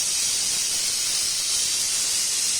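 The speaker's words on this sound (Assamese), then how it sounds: "আৰু এইফালে কুকাৰে চিটি মাৰিব" Kitchen pressure cooker venting steam in a loud, steady high-pitched hiss that holds unbroken and close for the full length, with no talk over it.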